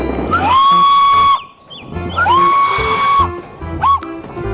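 A green Thomas toy train gives a loud, shrill whistle in three blasts: two long rising toots followed by a short one, with some hiss between them.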